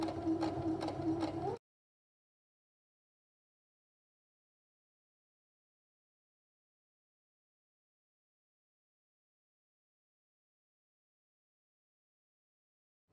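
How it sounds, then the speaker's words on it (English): A sewing machine stitching fabric for a bunny ears hair tie, a short close mechanical run of about a second and a half, then long silence. "And just go ahead and start stitching."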